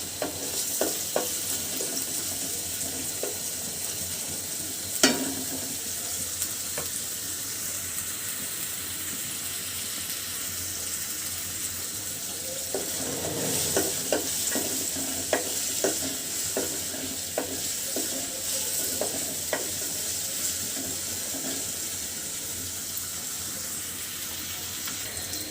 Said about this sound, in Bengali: পেঁয়াজটা কিন্তু খুব সুন্দরভাবে ভাজি হয়ে গেছে।